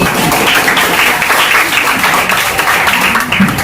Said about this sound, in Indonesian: Ibu berkata tepuk tangan 2 kali